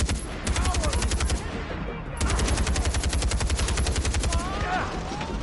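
Rapid bursts of crossbow bolts fired in Far Cry 4, sharp repeated clicks in a fast steady rhythm, close and loud, with a short pause before the volley resumes, over a busy game background.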